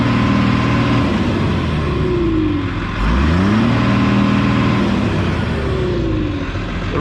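A bulldozer's diesel engine runs at a steady, loud, close drone that swells to wide open throttle, with pitch sweeping up and down a few times as the revs shift.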